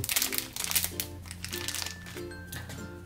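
Scissors snipping through stiff plastic toy packaging for a Disney Doorables figure, a busy run of close, loud crinkling and crunching cuts with no talking.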